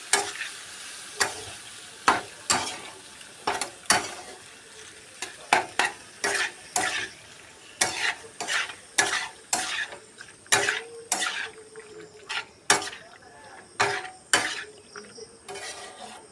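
Spiced pasta frying in a pan is stirred with a utensil, giving repeated scraping strokes in an uneven rhythm over a continuous close sizzle.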